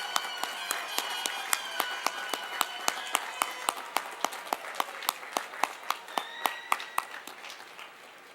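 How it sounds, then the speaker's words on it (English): Faint, evenly paced clapping from a 2009 College of Environmental Design commencement audience, crisp individual claps ringing out one after another in a steady rhythm, with some tonal voice sounds in the background before the claps taper off. "ask them to stand for a well-deserved round of applause from the class of 2009"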